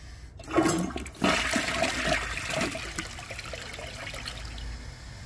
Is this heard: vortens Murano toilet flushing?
yes